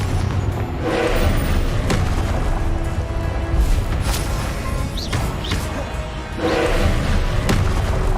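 Repeated explosive spell blasts from Hogwarts Legacy on PS5, a series of heavy booms and thuds at irregular intervals over a continuous background of game effects and music, with no talk.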